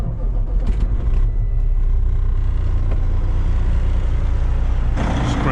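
A customized Kenworth W900 heavy-haul truck engine rumbles steadily close by, a deep continuous idle with a brief hiss near the end and no talking.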